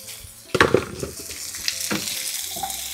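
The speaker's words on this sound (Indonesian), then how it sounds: "Di sini ada ikan teri, bawang merah, bawang putih. Tumis sampai wangi. Kalau sudah masukin labu." Anchovies, shallots and garlic sautéing in a pan, with a sudden clatter and scraping of stirring around the half-second mark, then a steady sizzle beneath occasional utensil knocks; no talking.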